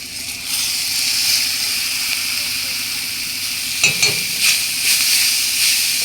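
Leafy greens stir-fried in a pan with turmeric, salt and two green chillies give a steady close sizzle, with scraping and clattering stirs toward the end.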